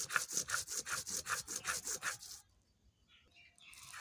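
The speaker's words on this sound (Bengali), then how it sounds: "একই সাথে গোটা জিরেটাও বেটে নেব। একদম মিহি করে বেটে নিতে হবে।" Whole cumin seeds are ground into a fine paste with quick, regular back-and-forth grinding strokes, about a dozen in a row, close and steady. The strokes then stop, leaving near silence.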